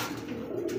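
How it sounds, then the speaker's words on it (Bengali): A racer pigeon gives a short, soft, low coo close by, alone with no talk over it. "সাইজের মধ্যে আরো একজন রেসার কবুতর।"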